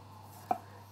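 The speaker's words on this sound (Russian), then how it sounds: "Аккуратненько мы нарезаем кубиком таким, чтобы, ну, примерно было как кукуруза" One crisp knife chop lands on a cutting board while crab sticks are cut into small cubes, a single short tap in an otherwise quiet room.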